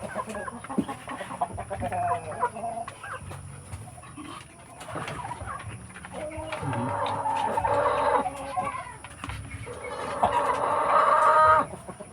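Chickens cluck and chatter in a busy farmyard while eating, a rooster occasionally crowing, with bursts of louder squawking as the flock crowds together.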